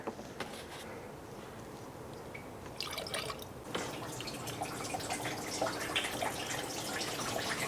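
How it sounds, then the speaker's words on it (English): Coolant mixed with distilled water drips and trickles out of a rusty car cooling system during a flush, irregular close drips that turn into a steadier splashing flow partway through, with no talking. "So I can see when blue fluid starts pouring out."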